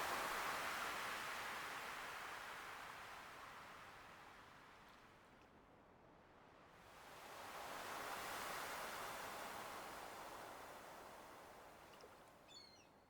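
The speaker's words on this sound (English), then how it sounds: "just listening to the waves crashing in, the trickling of the water a little bit around the bobber" Ocean waves wash in at a pier in the video game Stardew Valley, a soft, continuous surf that swells, dips and swells again, faint and steady with no one talking.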